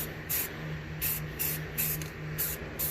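Short hissing bursts of spray paint on engine parts for a K20 engine repeat in a steady rhythm, close and fairly quiet, over a faint low hum.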